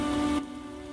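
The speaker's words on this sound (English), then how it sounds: "Rain, stop!" Steady rainfall in the video game The Witcher: Enhanced Edition hisses evenly on surfaces, then cuts off abruptly partway through, leaving only a quiet background.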